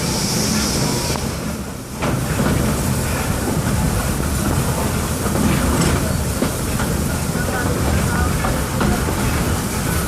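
A runaway mine train on the Thunder Mountain Railroad ride rumbles past with loud continuous roaring and rattling clatter, steady and close throughout.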